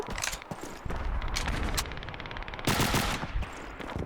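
Call of Duty 2 gunfire crackles in dense automatic bursts and overlapping shots from a World War II battle scene, loud and continuous across the whole stretch.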